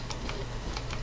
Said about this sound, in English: Like that ASMR of my keyboard, my loud keyboard